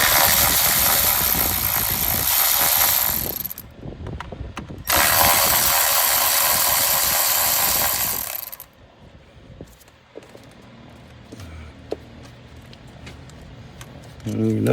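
Ratchet wrench loosening the ignition coil bolts on a Ford Coyote 5.0 V8, with bursts of rapid clicking, metallic clatter and brief pauses between them, heard close and fairly loud.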